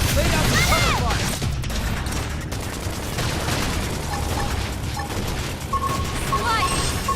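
Rapid gunfire and bursts of combat in the video game Xenoblade Chronicles X, loud and continuous with crashing impacts, under a dense mix of game music and effects.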